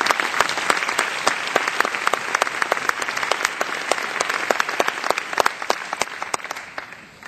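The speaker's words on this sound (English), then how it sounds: "I please want to ask you to give them a round of applause because they deserve it" Conference crowd at the DMA 2011 marketing event applauds its premier sponsor companies, steady full-room clapping with sharp individual claps standing out, fading slightly near the end.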